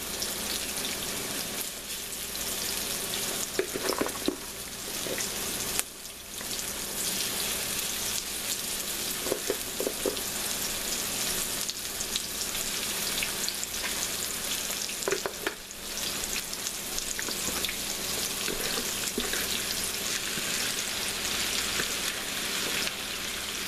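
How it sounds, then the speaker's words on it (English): Okra and green tomatoes coated in flour and cornmeal fry in a pan with a steady, dense sizzle, close and loud, with a few brief stirring scrapes and no talking. "It's got a good sizzle on it, so I'm going to go ahead and add the rest."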